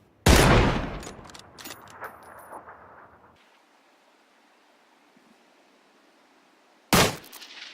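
Two loud, sharp M24 sniper rifle shots in the PUBG video game, fired at helmets, one at the start and one near the end, each with a metallic clang and a decaying echo, separated by quiet ambience.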